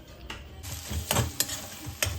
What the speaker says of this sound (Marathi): इथे आपला कांदा आणि टोमॅटो परतून होतोय